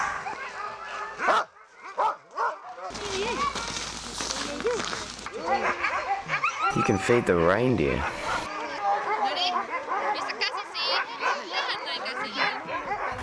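Dozens of sled huskies and wolves at Levi Husky Park on a freezing morning at minus thirty degrees, barking, yipping and whimpering in a dense, overlapping chorus close by, while a person speaks briefly over the noise.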